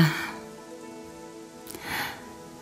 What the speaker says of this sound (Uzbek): bugun maydalab yomg'ir yog'yapti